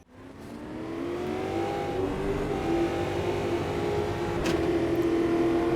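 A race car engine in the Automobilista 2 VR racing game revs steadily and climbs through the gears, loud and continuous for the whole stretch with rising whine and a brief shift near the end.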